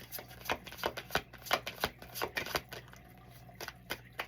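Tarot cards being shuffled in a quiet room, a rapid run of crisp papery riffles and flicks coming in uneven bursts, close and moderately soft, with no talking.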